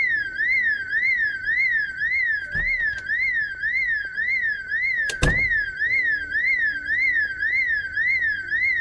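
An alarm blares in the video game Project Zomboid, a loud, steady warbling tone that rises and falls in a fast repeating sweep for the whole stretch, with a couple of sharp knocks and a heavier thud partway through.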